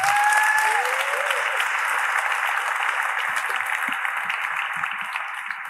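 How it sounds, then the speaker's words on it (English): A conference audience at a CSS design event applauds a speaker, steady dense clapping from a large room with a brief whistle or cheer at the start, continuing evenly throughout. "One more round of applause for Mr."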